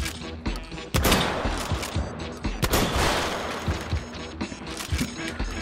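Explosive shotgun slug rounds fired in the H3VR virtual reality game, a rapid series of sharp, loud blasts interspersed with mechanical clicks and racking of the shotgun action.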